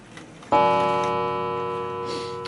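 An Art Deco chiming mantel clock strikes a single loud chime that rings out with a long, slowly fading metallic tone, preceded by a faint quiet background.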